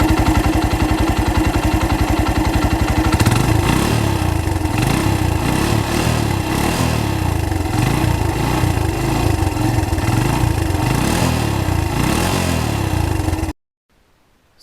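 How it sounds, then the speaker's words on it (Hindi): A Suzuki GS 150 motorcycle engine starts with a rapid cranking chatter, then settles into a loud, steady close-range idle with rhythmic throttle blips and revs before cutting off abruptly near the end. "इसके अलावा करते हैं इस बाइक का साउंड टेस्ट"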